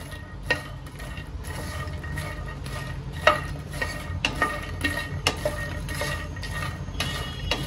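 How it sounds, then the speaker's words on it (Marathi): Fox nuts (makhana) roast in a pan over slow to medium gas, stirred with a spoon: irregular clicks and scrapes of the puffed seeds rattling against the metal over a low steady hum, close and fairly quiet. "आता मखाण्यांना मी असंच रोस्ट करून घेते"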